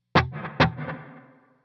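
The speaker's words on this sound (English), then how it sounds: "So the delay and reverb you're hearing," Two plucked electric guitar notes ring out through Strymon Timeline delay and Big Sky reverb pedals, each trailed by repeating delay echoes and a lush reverb tail fading away.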